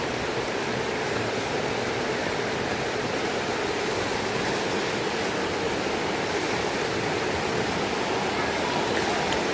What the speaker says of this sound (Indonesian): Jadi Cikahuripannya berada di sana Baraya ya, tepat di pinggir sungai.